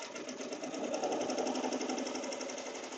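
An embroidery machine stitches a placemat zipper pouch in the hoop, a fast, even mechanical chatter that stays steady and close for the whole stretch.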